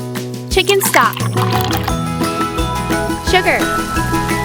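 Chicken stock poured into a tiny pot for a miniature octopus dish, giving a short liquid gurgle and fill sound beneath loud, steady music.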